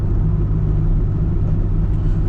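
A Toyota Supra RZ-S with a six-speed manual driving on a mountain road at Mount Tsukuba, Japan, heard from inside as a steady, loud low engine drone and road rumble.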